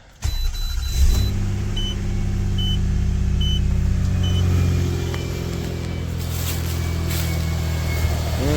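A car engine starts and settles into a steady, close idle after its fault codes were cleared, with faint repeated beeps over the even rumble.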